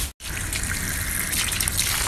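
Water running steadily from a tap on a pipe, a continuous splashing trickle after a brief gap at the start, close and fairly loud, with no voices.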